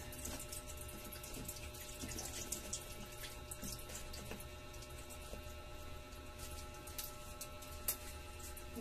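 Water pours steadily from a tap into a basin filled with a week's worth of laundry. It makes a soft continuous splashing and trickling, faint and fairly close, with no talking.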